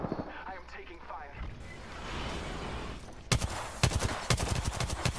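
Gunfire in the battle royale game Apex Legends, a dense burst of rapid shots with sharp cracks arriving after a stretch of rumbling ambience, fairly loud and close.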